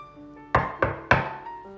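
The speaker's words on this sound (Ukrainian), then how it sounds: "Миколай стукає ще раз." Knocking on an old wooden door in a Ukrainian audio fairy tale, with three firm, resonant knocks in an even rhythm over soft background music.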